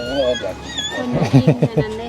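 Gibbon calls from a close animal: a series of rising, whooping, tonal hoots that pulse faster toward the end, with some voices mixed in.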